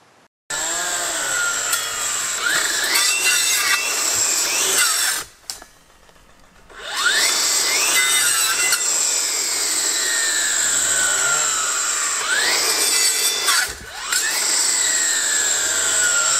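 A Husqvarna 535 iFR battery clearing saw cuts through wood in a neglected young stand, its high electric whine rising and falling in steady pitch sweeps, dropping out briefly around the middle before the loud motor runs on.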